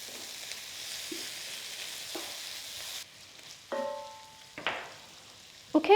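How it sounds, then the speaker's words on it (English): Chicken and prawns frying in a pot for one-pot Singapore noodles, a steady close sizzle with a few stirring clinks and scrapes, rising in bursts near the end. "in goes the chicken and I'm going to add 200 grams of prawns. We're going to cook for about 2 minutes."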